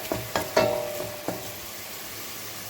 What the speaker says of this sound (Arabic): ملي كتشحر البصله والثومه كتجي زوينه الشوربه كتشحر